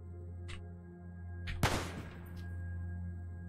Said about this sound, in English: I'm just gonna keep firing bullets at it.